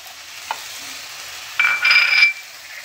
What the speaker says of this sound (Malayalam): ഇനി അതിലോട്ട് പച്ചമുളകും കൂടി ഇട്ട് കൊടുക്കുന്നുണ്ട്.